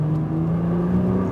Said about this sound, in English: Get on the gas, full throttle.